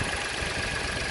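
A Renault Sandero's three-cylinder engine idles steadily, a continuous low rumble with a broad hiss, close and even throughout with no voices.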